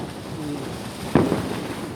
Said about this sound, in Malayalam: ആൾക്കാരൊക്കെ പുറത്ത് റോഡിലൊക്കെ നിന്നിട്ട് പടക്കം പൊട്ടിക്കുന്നുണ്ട്.